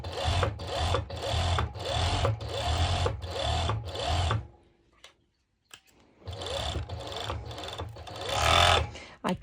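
A serger (overlock sewing machine) stitches mesh fabric in rapid, rhythmic runs, stopping for a brief near-silent pause before starting again and running up to a slightly louder finish, close by.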